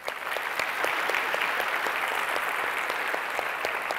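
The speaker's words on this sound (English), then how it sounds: "Can we just give her a round of applause?" Audience applause at a university disability inclusion panel event, a steady, dense patter of clapping hands filling the room at moderate volume for several seconds, with no voices over it.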